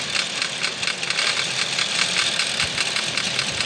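A motorbike engine idles in the video game Project Bengal, a steady, loud, rough mechanical drone with a faint rattle and no pauses, heard alone.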